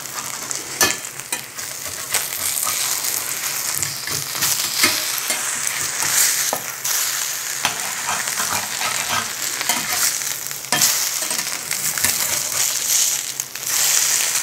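Eggs and onion frying over lowered heat in a carbon steel aluminum clad pan: a continuous crackling sizzle with scattered sharp pops and occasional spatula scrapes, close and steady throughout.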